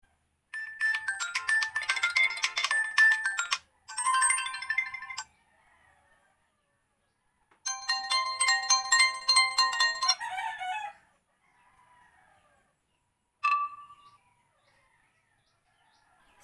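An Itel A70 phone plays through several of its built-in ringtones one after another, short bursts of bright tones and a rooster crowing ringtone separated by pauses, loud and close with no one talking.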